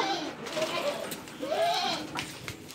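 Goats on a farm bleat in two wavering calls close by, with people talking nearby.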